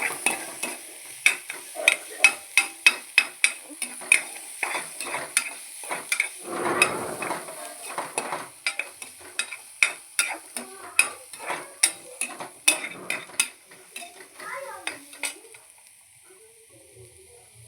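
Chopped onions sautéing in ghee in a pan, a spatula scraping and tapping in quick irregular strokes over a light sizzle, with a brief louder burst midway before the stirring slows and fades.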